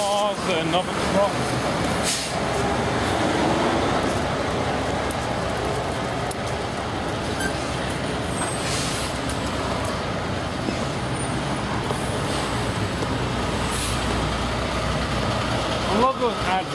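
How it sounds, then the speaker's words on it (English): A truck passing on a suburban road in New South Wales amid steady traffic, a continuous loud roar of engines and tyres rising and falling as vehicles go by close to a walker. "More cars, another truck."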